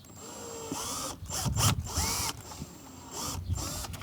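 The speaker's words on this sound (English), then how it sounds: "we're gonna take a 1/8 drill bit here, and we're gonna use the existing female hole there as a guide to punch through" A power drill with a 1/8 inch bit punches through an existing hole in a plastic kayak gear track, whirring in close, loud bursts that rise and fall with short pauses between them.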